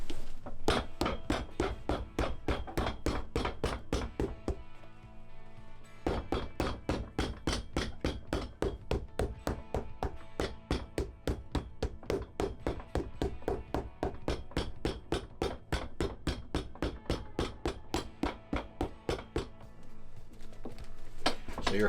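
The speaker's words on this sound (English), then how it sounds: "Just hammer it in." A cobbler's hammer strikes a leather boot sole in a fast, even run of sharp taps that goes on for about twenty seconds, close and loud, with one brief pause.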